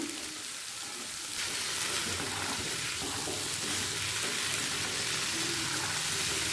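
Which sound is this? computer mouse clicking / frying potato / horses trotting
frying potato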